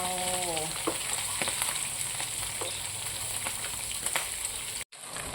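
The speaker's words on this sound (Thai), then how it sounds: "เราก็จะพลิกกลับด้านแล้วนะคะปลาทอดของเรา" Fish frying in hot oil as it is turned over, a continuous crackling sizzle with scattered pops and a brief dropout near the end, no talk.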